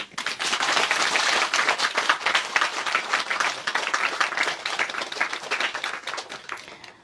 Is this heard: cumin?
no